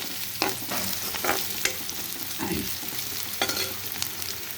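Ginger garlic paste fries in a pan with a steady hiss, while a utensil stirs and scrapes through it in several distinct strokes, close and moderately loud, with no voices.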